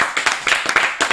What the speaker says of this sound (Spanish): Nos aplaudimos.